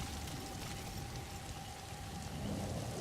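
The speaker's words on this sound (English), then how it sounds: "I'm just going to mute the in-game audio for a second because it's raining and it's loud" Loud in-game rain in Metal Gear Solid V: The Phantom Pain, a dense, steady downpour with rumbling thunder-like swells and no talk.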